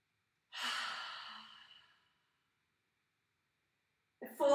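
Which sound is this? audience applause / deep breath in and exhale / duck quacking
deep breath in and exhale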